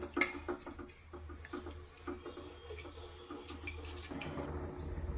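Long-grain basmati rice, soaked beforehand, tips into boiling water, giving soft crackling patter and bubbling with a few light clinks close by in a home kitchen, fairly quiet.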